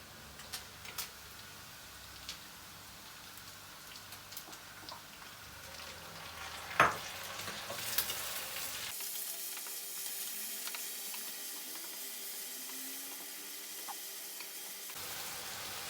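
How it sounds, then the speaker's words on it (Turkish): Chicken sauté with grated tomatoes simmering in a pan, a faint steady sizzle and bubbling with a few soft clicks and one sharp knock, no talking. "Şimdi rendelenmiş domateslerimizi içine ekleyerek pişirme işlemimizin yavaş yavaş sonuna gelmiş olacağız."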